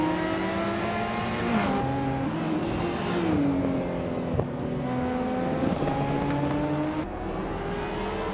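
Race cars, including a Nissan Skyline and a 1993 Peugeot 405, run in a racing video game, their engines droning steadily with shifting pitch as gears change, a continuous close roar with no talk.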